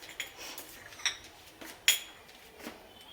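Spice paste being mixed by hand in a bowl for a Bengali-style katla fish kalia, heard as a few soft scrapes and light clinks of a spoon against the bowl, spaced irregularly with quiet pauses between them.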